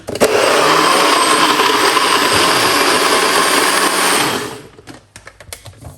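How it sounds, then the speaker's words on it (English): A blender whirs loudly and steadily for about four seconds, then winds down and stops, followed by a few light clatters. "Okay, let's blend this for few seconds."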